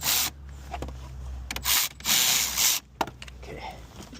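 A wrench working on a 10 mm nut on a Nissan Juke battery, close scraping and rubbing bursts with a sharp click, loud and near with no talking.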